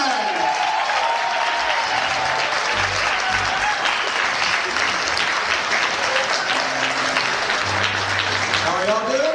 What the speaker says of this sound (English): could you please give a warm round of applause for the incomparable singer, songwriter, and performance artist